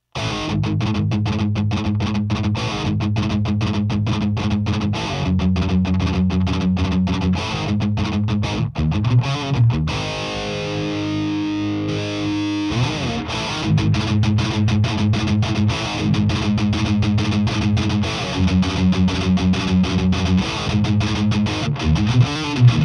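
An electric guitar plays through a cranked Armored Amplification Sabot GEN 3 low-gain amp with a Plumes overdrive boost, giving loud, sustained crunchy chords and rhythmic chugging riffs, with a brief ringing pause midway and no talking.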